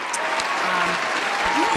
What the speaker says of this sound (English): Everybody give a round of applause for the Breakfast Monster.